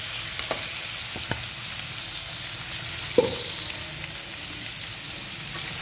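Mixed vegetables for bhaji fry in oil with spices, a steady close sizzle with a few faint clicks and one sharper knock near the middle, no voices.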